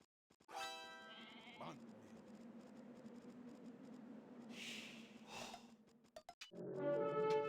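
A video game goat bleats in a few drawn-out, nasal cries, clear and close against a quiet background, with a brief higher call near the end.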